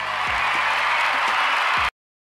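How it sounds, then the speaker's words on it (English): A studio audience applauds during a talk show: steady, dense clapping at moderate volume for about two seconds, then cut off abruptly into silence. "How about we give him a round of applause?"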